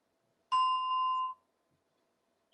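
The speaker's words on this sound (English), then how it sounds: "So when you hear the bell running," A single meditation bell is struck once, giving a clear, pure ringing tone that sustains for under a second before cutting off, heard alone in a silent room.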